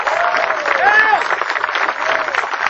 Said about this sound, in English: you guys owe yourself a big round of applause